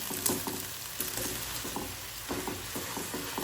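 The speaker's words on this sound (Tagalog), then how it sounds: "Ayan, kumukulo na siya." Low-carb bopis sizzles and bubbles in a pan, a faint, continuous frying crackle with occasional stirring clatter, heard alone without talk.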